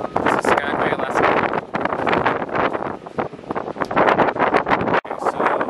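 Strong wind buffets the microphone in Skagway, Alaska, while a cruise ship is refueled, a loud, continuous roar with gusty surges that nearly cover any other sound.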